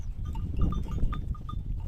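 Goats on a Turkish farm bleat in a noisy outdoor pen, with several short calls scattered over a steady low rumble of background noise.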